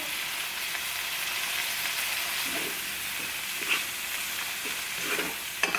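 Shrimp frying in a pan with taco seasoning, a steady close sizzle and hiss throughout, with a few soft stirring scrapes near the end.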